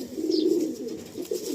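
A pair of Andhra pigeons in a loft coo in low, throaty, rolling phrases, close and steady, with no talking over them.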